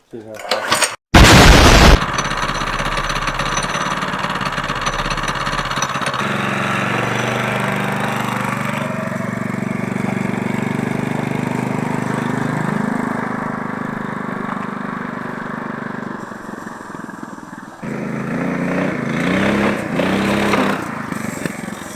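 A budget pit bike engine starts with a sharp burst and settles into a loud, steady buzzing run, its pitch rising and falling with the throttle near the end; voices are heard over the engine at times.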